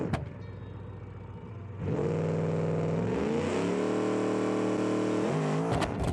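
Car launched from a standstill in BeamNG, engine idling and then jumping to a loud steady roar with rising pitch as it accelerates through the gears, alone with no talk.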